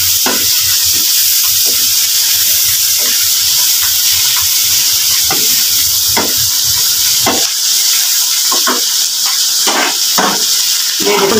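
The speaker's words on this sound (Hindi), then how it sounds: "इसको थोड़ा सा पानी डालना है ताकि ये जो मसाले हैं ना हमारे अच्छे से पक जाएं।" Spices fry in a pan after water is poured in, giving a loud, steady sizzling hiss with intermittent scraping stirs and spatters, close up, with a voice faintly underneath.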